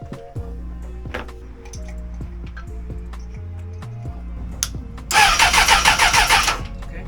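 A Suzuki Bandit 600 motorcycle engine on a repair stand is cranked with repeated short starter bursts, then catches and runs with a loud, throbbing idle.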